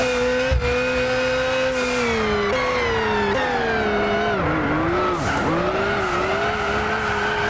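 A 4WD rally car in Gran Turismo 6 slides under the handbrake, its loud engine droning steadily while the pitch dips and swoops and the tires squeal throughout.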